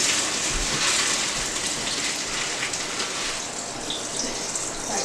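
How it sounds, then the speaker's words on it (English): Cold water runs steadily from a tap into a sink, a continuous bright hiss and splash filling the whole clip, with no talking. "Got some cold water running."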